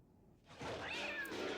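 A cat gives one drawn-out meow, moderately loud and alone, over a faint background.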